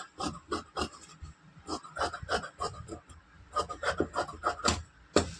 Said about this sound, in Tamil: இதை இப்போ இதை வந்து கட் பண்ணி எடுத்துக்கலாம்.